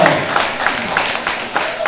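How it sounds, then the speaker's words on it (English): Brief applause from a comedy club audience welcoming a performer, a short wash of clapping with some crowd noise, fairly steady and moderately loud. "Round of applause for Michelle."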